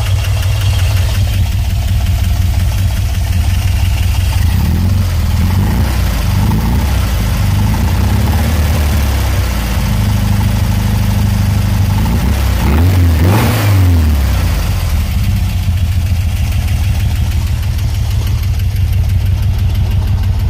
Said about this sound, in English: It seems to be idling right where I kind of like it.